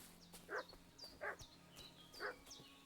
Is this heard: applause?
no